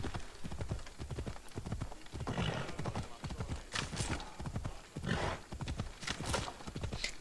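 A ridden horse's hooves clip-clop in a steady, rhythmic gait, with sharp, close strikes repeating throughout and faint breathy or whinnying sounds between them.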